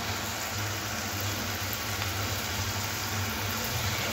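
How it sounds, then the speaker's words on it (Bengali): Potato donut snacks sizzle steadily in hot oil over a medium-low gas flame, a continuous close, even frying hiss with a low hum underneath and no voices. "এবার গরম তেলে একটা একটা করে ছেড়ে দেব।"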